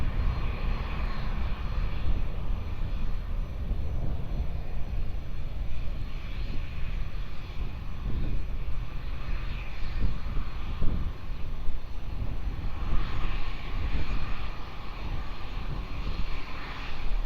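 A fixed-wing airliner takes off from runway 20 at Lisbon Airport. Its engines give a loud, steady roar that rises a little toward the end, with no talking.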